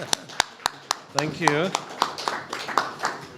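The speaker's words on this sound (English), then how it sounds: "Let's have a round of applause for him." Scattered audience clapping at a peace federation session in a hall, a few sharp isolated claps at first, then uneven applause beneath someone speaking briefly.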